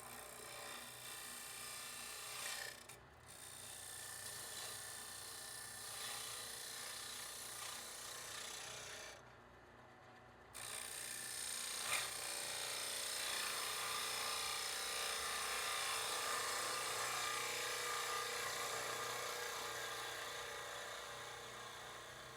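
A 3/8 spindle gouge cuts wood spinning on a lathe, giving a steady, close, rough scraping hiss that drops out briefly twice before running on continuously.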